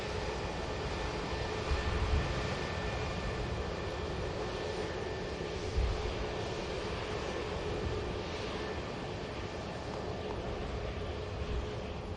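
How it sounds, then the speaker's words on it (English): An Aer Lingus A321neo airliner touches down at Manchester Airport, a constant distant jet roar with a faint steady whine and occasional low thumps. "There's the Aer Lingus neo that's just touched down."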